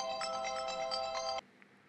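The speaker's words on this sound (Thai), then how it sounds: "พิงโทรมาตอนปฏิบัติธรรมเขาให้ใช้โทรศัพท์ด้วยเหรอ" A phone ringtone plays a bright, repeating electronic melody for over a second and then cuts off abruptly, fairly near and clear, with quiet room tone after.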